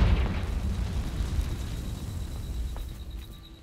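Confringo explosive spell blast in Hogwarts Legacy on Xbox, a deep rumbling explosion that hits hard at the start and then fades gradually over a few seconds.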